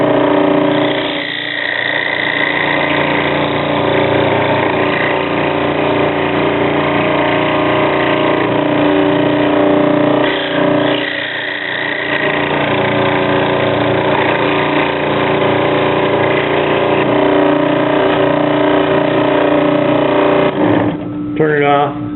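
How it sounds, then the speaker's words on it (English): Scroll saw cutting through a wooden toy car body, a steady buzzing mechanical drone with strong harmonic hum running continuously, briefly dipping twice as the blade pauses, then shutting off near the end. "we're going to take this over to the scroll saw and cut these two"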